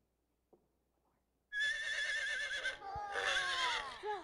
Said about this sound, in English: Yeah, that one is a horse.